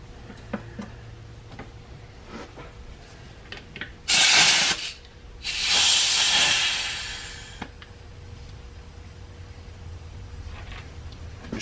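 Carb cleaner sprays onto LSX fuel injectors in two loud hissing bursts, the first short and the second longer and fading, against quiet ticking and faint background hum.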